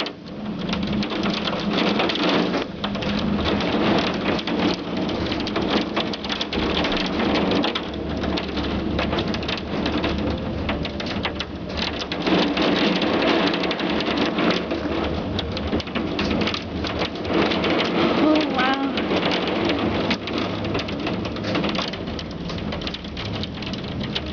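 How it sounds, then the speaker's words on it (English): Heavy rain pours down in Calgary just after a hailstorm, a dense continuous hiss and patter on surfaces that is loud and unbroken, with faint birdsong behind it and no talk. "It's mostly rain now."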